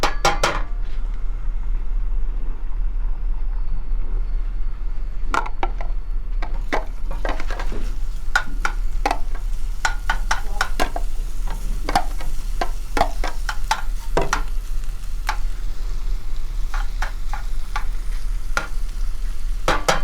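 Oxtail searing over high heat in a pan gives a steady sizzle, with scattered sharp clicks and scrapes of a utensil against the pan throughout, close and alone with no talking.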